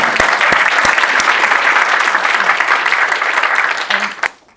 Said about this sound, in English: Just give her a round of applause for that.